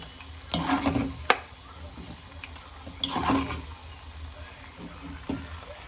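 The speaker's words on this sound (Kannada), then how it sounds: "ಕರ್ಬೇವಿನ ಸೊಪ್ಪು ಮತ್ತು ಮೆಣಸಿನ್ಕಾಯಿ ಹಾಕ್ತಾ ಇದ್ದೀನಿ." Curry leaves and chillies hit hot oil for a tempering, giving close crackling sizzle in two bursts with spoon-stirring scrapes and a sharp clink between, quieter frying hiss continuing underneath.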